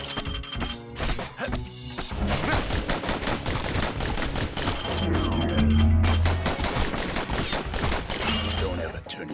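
Rapid bursts of gunfire from the Kid's guns in the action game Bastion, dense sharp shots stacked over game music and impacts, loud and continuous throughout.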